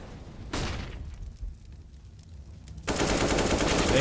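Rapid automatic gunfire in a professional Counter-Strike match, with a short burst early, a quieter lull, then a loud sustained stream of shots to the end.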